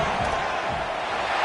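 Dense, steady roar of a packed college football stadium crowd at Texas vs Alabama, loud and continuous with no break, building noise ahead of a fourth-down field goal attempt.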